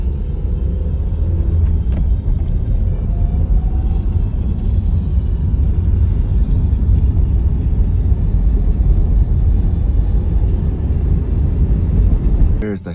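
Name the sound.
Toyota MR2 car driving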